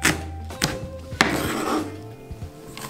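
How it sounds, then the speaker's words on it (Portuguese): A knife chops the green part of a leek on a cutting board, a few sharp irregular knocks and thunks, close and fairly quiet, with no talking. "Eu vou picar agora o alho poró, mas eu vou utilizar só a parte verde dele"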